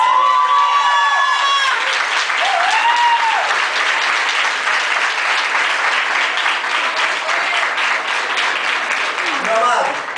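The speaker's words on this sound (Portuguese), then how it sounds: "eu gostaria de chamar nossa irmã Valdênia, que você pudesse aplaudir" Church congregation applauding during an evening service, a sustained wash of many hands clapping from start to finish with scattered cheers and musical tones at the start and end.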